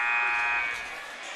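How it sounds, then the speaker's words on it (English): A long, steady electronic buzzer blares across a high school boys' basketball gym on senior night, loud and sustained, then tapering slightly near the end. "There's the aforementioned buzzer."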